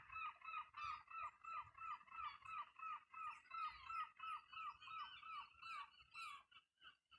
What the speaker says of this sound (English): And the seagulls are agreeing.